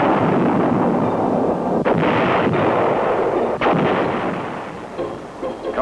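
Artillery pounds enemy positions in a valley combat zone. The deep, rolling rumble of distant gunfire is punctuated by a few sharper reports and carries on without voices.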